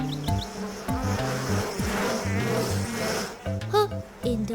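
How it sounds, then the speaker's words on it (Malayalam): A swarm of cartoon honeybees buzzes in a busy, wavering drone layered over stepped, tuneful synthetic tones, running continuously at moderate loudness with brief pauses. "ഹോ, എന്തുമാത്രം തേനീച്ചകൾ!"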